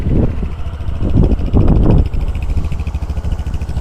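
A Bristol Invictus 160 scooter engine runs at a steady idle close by, with a few quick throttle rises and a light rattly buzz, no talking.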